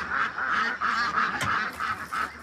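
Ducks on a livestock farm quack in a steady run of repeated calls, close and fairly loud, with short pauses between bursts and no talk over them.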